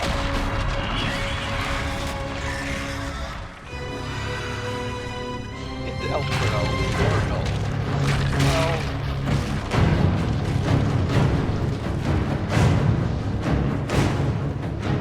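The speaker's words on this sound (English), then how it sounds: "Make a big old blood magic explosion." In Dragon Age: Inquisition, a blood magic explosion lands as a series of heavy booms and crashes. A rising magical shimmer builds midway, and dense rumbling impacts follow, with game voices mixed in.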